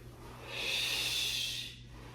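A single long breath drawn in during a Pilates glider exercise, a close, airy hiss that swells and then fades over about a second.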